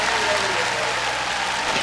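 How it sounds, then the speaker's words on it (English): A crowd's round of applause, dense and continuous clapping at close, even loudness for a short burst, with a faint voice mixed in. "Round of applause noise please too."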